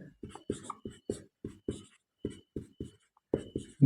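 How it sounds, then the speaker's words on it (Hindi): Chalk or marker writing on a board in a classroom lesson: a series of short, distinct scratchy strokes in irregular rhythm, close and fairly quiet, with brief pauses between letters and no talking. "देखिए लिखेंगे यूक्लिड"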